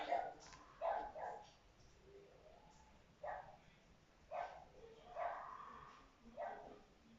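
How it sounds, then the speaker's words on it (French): A dog barks in short, repeated bursts, about seven over several seconds. The barks are faint and slightly distant against quiet background noise. "Elle aboie et il y a le gamin qui est en train de gueuler dessus."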